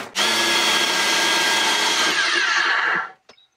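A countertop blender whirs loudly at high speed for about three seconds inside a camper van, then cuts off abruptly, followed by a brief clatter.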